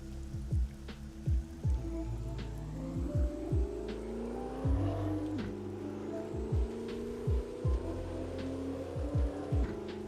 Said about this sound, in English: Car sounds good though, can't deny that.